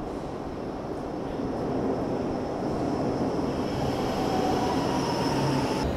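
A Milan metro train rumbles steadily throughout, a broad low roar of wheels on rail with a faint whine rising toward the end, continuous and fairly close, with no talk.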